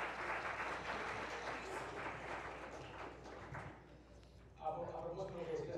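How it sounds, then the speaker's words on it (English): An audience at a women's conference claps in a steady, fairly faint burst of applause that fades after a few seconds, then voices pick up as someone starts talking. "Well, you do deserve an applause for that."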